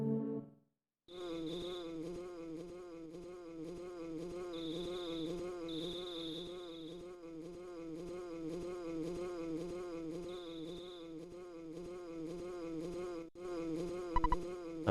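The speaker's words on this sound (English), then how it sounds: "Ness, do you hear a buzzing sound that sounds like a bee flying around?" A bee buzzes in the EarthBound video game as a steady, continuous electronic drone that keeps a repeating pulse for about fourteen seconds, with no voices.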